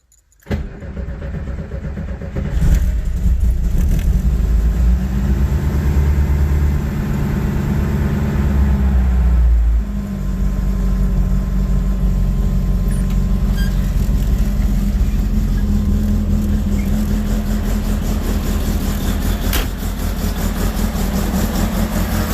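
Volkswagen engine fitted with FiTech fuel injection, cranked and fired on a cold start at about 45 degrees, settling into a loud, steady idle with a low rumble that continues throughout, without talk.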